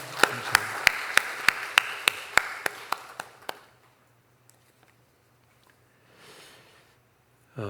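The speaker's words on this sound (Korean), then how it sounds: "우리 주님께 영광의 박수 올려드리겠습니다" Church congregation at a Wednesday service clapping in unison after a prayer, about a dozen evenly spaced sharp claps that stop abruptly, followed by quiet room tone with faint rustling.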